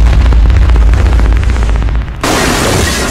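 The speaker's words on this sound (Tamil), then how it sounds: "சரவெடி" A rapid string of firecrackers going off as a film sound effect, loud dense crackling bursts running continuously, then shifting abruptly to a harsher hissing crackle near the end, with no talk.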